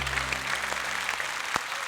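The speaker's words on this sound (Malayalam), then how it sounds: "ഇവിടെ വാ, നല്ലൊരു കയ്യടി കൊടുത്തേ." Audience applause at a live comedy stage show, a dense steady patter of many hands clapping continuously at moderate level throughout.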